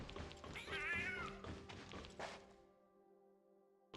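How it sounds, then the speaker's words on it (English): A cat meows in Tower of Fantasy, a couple of faint rising mews over soft taps and game ambience, ending in a sustained low musical tone. "I keep hearing the sound of a cat."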